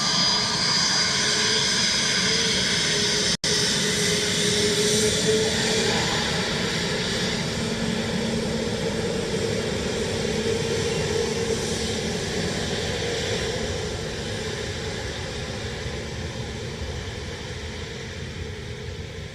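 Ryanair jet airliner at Dublin Airport giving a loud, steady engine roar that holds for the whole stretch, with a broad whooshing rumble that eases slightly toward the end.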